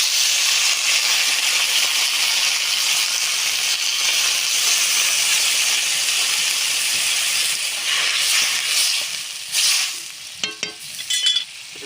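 Water poured into a hot pan of potatoes with mustard paste sets off a loud, close, sustained hiss and steamy sizzle that tapers off toward the end, broken by a few stirring clatters.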